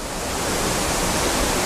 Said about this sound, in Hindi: तो ये था हमारा झरना।